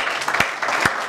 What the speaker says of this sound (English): I want everybody to clap for Coach Strong.